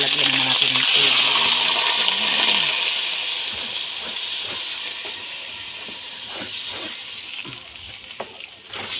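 Water poured into a hot pan while cooking pancit sets off a loud hiss and sizzle that fades gradually into steady bubbling, with stirring sounds and someone talking nearby.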